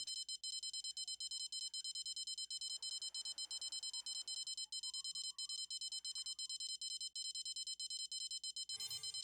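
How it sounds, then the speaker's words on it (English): A fishing bite alarm sounds in the Fishing Planet video game while carp fishing on a match rod. It is a steady, quiet, high electronic beeping that runs through nearly the whole stretch, alone with no talk. "Oh, beeping on me now."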